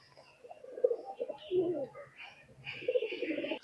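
A pair of Rajshahi Giribaz pigeons coo in soft, repeated bursts nearby, with a few brief chirpy notes mixed in and no talking.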